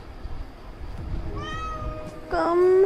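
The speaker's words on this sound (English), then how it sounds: "There's a cat in my room." A house cat meows indoors, several rising harmonic cries that grow louder toward the end, the last one close and strong, over a faint room background with no talking.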